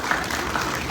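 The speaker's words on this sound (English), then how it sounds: "We can go ahead and give them a round of applause." A short burst of audience clapping, dense and steady throughout.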